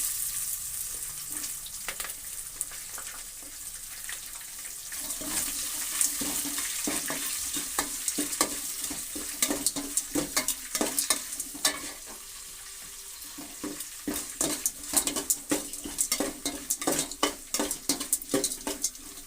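Onion fries in a pan for a vermicelli upma and is stirred steadily, a continuous sizzle broken by repeated spatula scrapes and clinks against the pan. The strokes come faster in the last few seconds.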